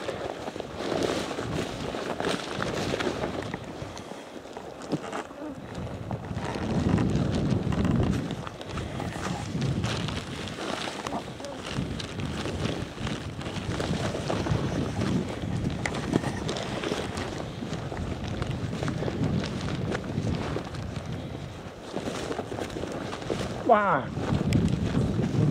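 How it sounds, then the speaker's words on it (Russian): Wind buffets a microphone outdoors on a long hiking trip, a rough, continuous low rumble with gusty swells throughout, under occasional faint voices. "Ветер слева дует."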